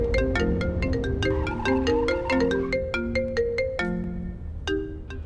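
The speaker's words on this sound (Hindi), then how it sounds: "लीजिए, आ गया आपकी मॉम का कॉल।" A mobile phone rings with an incoming call, a loud, bright melodic ringtone of quick repeating notes played alone, close and clear, in a domestic scene from a Hindi TV drama.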